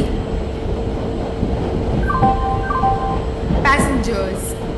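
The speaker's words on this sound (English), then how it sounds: "Goods Express is arriving at platform number 3" In an Indian train simulator game, a goods express train rumbles steadily with a constant hum at the platform, while a few chime-like tones ring out, followed by a brighter electronic jingle near the end.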